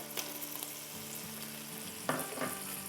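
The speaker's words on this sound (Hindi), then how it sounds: "ये यहाँ हमारी चिकन फ्राई हो रही है" Chicken sizzles in a pan with ginger-garlic paste and salt, a steady close frying hiss broken by a few scraping stirs and clinks.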